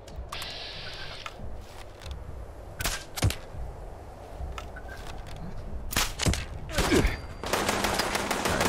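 Gunfire in Fallout 76 cracks out in scattered single shots and short bursts over steady game ambience, building to a louder, continuous volley at the end.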